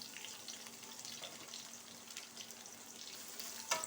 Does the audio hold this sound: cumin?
yes